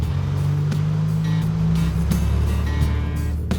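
A small, door-less car built on a Volkswagen Bug drives along, its engine a steady, close low drone with a few sharp knocks and clatters over the rumble.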